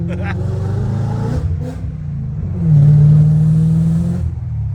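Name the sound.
BMW M5 E39 engine revving, resonant exhaust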